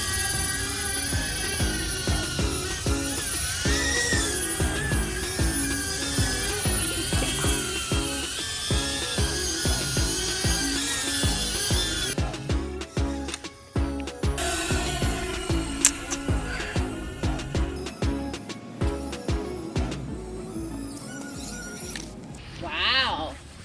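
A HydraQuad 3-in-1 drone flying in drone mode makes a continuous, close, high-pitched whine of buzzing rotors that wavers with throttle changes, then falls to a choppier, intermittent whir, with people talking over it.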